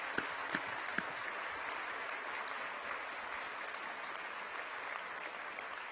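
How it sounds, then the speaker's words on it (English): A university audience breaks into steady, sustained applause for an a cappella choir, a dense even patter of many hands clapping in a hall with no talking. "So please, can we give them a round of applause as well?"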